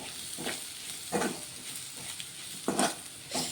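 A spoon stirs methi carrot fry with sprinkled coriander in a pan, giving four or five separate scraping strokes over a soft, steady sizzle. The sound is close and fairly quiet.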